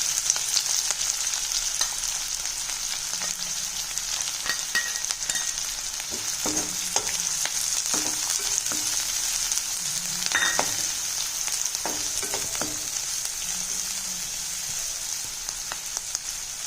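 Onions sizzle steadily in hot oil with mustard seeds and green chillies for sweet potato masala, a constant crackling hiss with occasional stirring clinks and scrapes, no voices.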